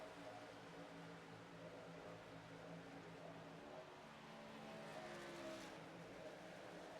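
Race cars lapping in the iRacing sim during a late battle for the lead, a steady layered engine drone with shifting pitch holding throughout, moderately loud and continuous with no voices.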